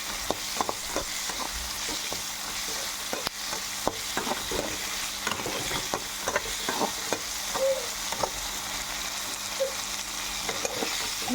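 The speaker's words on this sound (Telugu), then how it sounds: "ఎర్రగడ్డలు టమాటాలు తెల్లగడ్డలు బాగా వేయించుకోవాలి." Onions, tomatoes and garlic frying in a pan for a village-style okra curry. Clear sizzling runs under repeated scraping and clicking strokes of a spoon, close and without talk.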